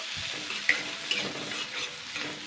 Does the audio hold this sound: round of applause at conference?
no